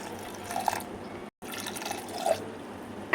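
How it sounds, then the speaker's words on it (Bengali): Water is poured into a cooking pot with turmeric for a baby's lunch recipe, making a gurgling splash in two pours split by a brief pause, close and moderately quiet. "দিয়ে দিচ্ছি এখানে আন্দাজ মতো জল"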